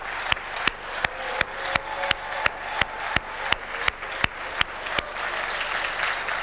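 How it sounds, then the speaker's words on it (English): Applause from the audience at the Youngstown Press Club Hall of Fame and Awards Dinner honoring award recipients, a steady crowd clapping wash lasting several seconds, punctuated by sharp regular camera-flash-like clicks. "Let's join in for one more round of applause for all of our recipients."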